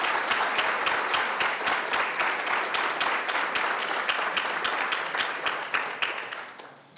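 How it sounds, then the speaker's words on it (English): At a candidate forum, a modest audience claps steadily to welcome two candidates, with distinct individual claps that slowly thin out and fade over about seven seconds. "you can join me right now in offering a warm welcome to our two candidates, Tana Sanchez and Roberta Phillip."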